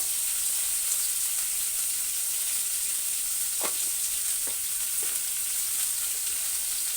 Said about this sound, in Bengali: নুন দিয়ে ভালো করে নাড়াচাড়া করে ঢাকা দিয়ে দেব